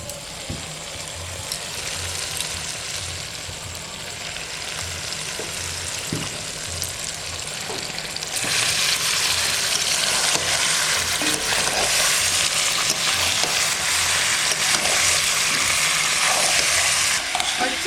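Chicken pieces fry in spiced oil with masala, a loud close sizzle under rhythmic scraping and clacking as they are stirred in the pan, the sizzle swelling stronger halfway through, no talking.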